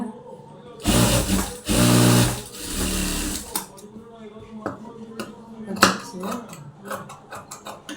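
A sewing machine stitches a blouse in two loud mechanical runs near the start, then gives way to lighter clicks and handling taps while a person talks.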